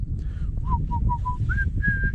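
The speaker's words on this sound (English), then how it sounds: "I'm going to probably whistle a little bit more now" A person whistles a short tune of separate clear notes, several brief ones followed by longer held tones, close by over a steady low rumble, likely outdoors on the ice while ice fishing.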